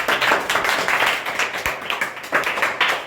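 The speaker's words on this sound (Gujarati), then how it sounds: "મસ્ત તાળીઓ વગાડી દો આના માટે" An audience applauding a singer at a chili-eating challenge event, a short burst of brisk, uneven clapping from a small crowd, close and fairly loud.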